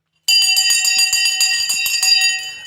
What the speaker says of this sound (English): Okay, the bell has gone.